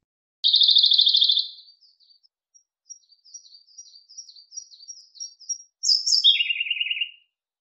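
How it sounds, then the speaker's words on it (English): Blue robin singing alone: a loud buzzy trill opening, then a run of faint short high notes, ending with a louder pair of descending trilled phrases, clean and close with no background. "Blue robin."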